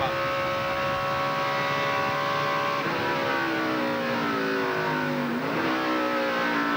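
A race car at the 2001 GNC Live Well 200 roars at high revs, then the engine pitch drops sharply in stepped downshifts into third gear as it brakes for a corner, loud and close throughout.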